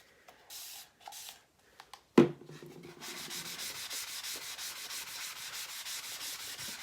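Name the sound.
wiping chalk paste off a board with an eraser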